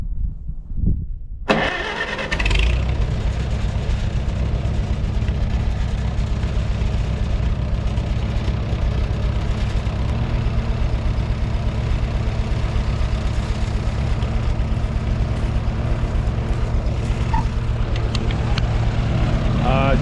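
A 1944 Farmall H tractor engine cranks and catches after a brief start, then settles into a loud, steady, close rumbling idle that runs continuously, with light rattles and a faint voice now and then.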